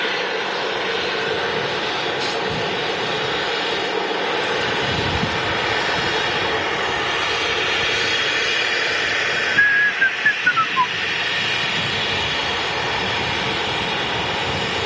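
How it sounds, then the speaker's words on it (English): An Embraer E190 jet at Manchester Airport gives a steady, loud engine roar with a broad whine that holds for the whole stretch; no voices. "it is a very nice looking aircraft, the Embraer"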